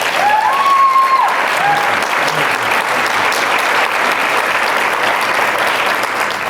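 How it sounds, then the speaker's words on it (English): A live-event audience at a true-crime convention breaks into loud, dense applause that holds steady throughout, with a brief tonal whistle or squeal near the start. "So please give him a round of applause for still being here today."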